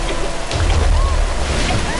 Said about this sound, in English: the water crashing is loud as fuck